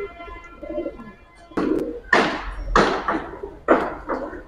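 Giribaz and colored pigeons give a low, soft coo at first, then sharp, loud bursts of flapping and clatter follow in quick, uneven clusters close by.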